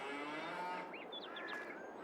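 Cattle lowing in a farming video game barn where all the cows are kept, with a couple of short, rising calls over a steady hum of ambient farm noise, heard alone.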